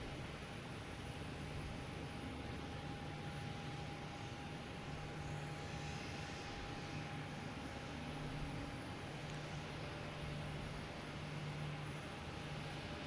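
A steady, distant drone of an airplane engine, constant and fairly faint, with no talking.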